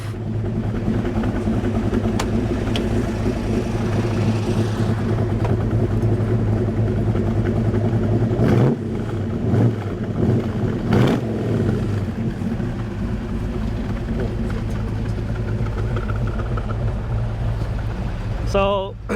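A 1972 Jensen Interceptor with a 440 engine idles up close with a deep rumble, then gives two sharp revs before settling back to idle, while people talk nearby.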